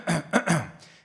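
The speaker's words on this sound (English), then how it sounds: "if I get into like a little coughing fit" A few short throaty coughs in quick succession, three rough bursts close to the mic followed by a fainter trailing rasp, with no talking.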